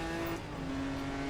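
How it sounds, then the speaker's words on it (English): A classic Shelby Cobra V8 racing on a track at a historic motorsport event, its engine giving a loud, steady rumbling drone as it passes close by. "That Cobra's got the V8 grunt."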